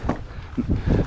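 Gusty wind buffeting the microphone on board a Sea Ray 310 Sundancer cabin cruiser at a dock, low rumbling bursts rising and falling over about a second.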